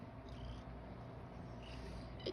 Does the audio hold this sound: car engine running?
no